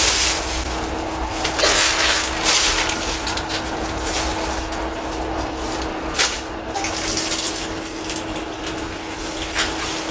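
A faucet runs steadily with a constant rushing hiss of water and a faint hum underneath, occasional splashy surges.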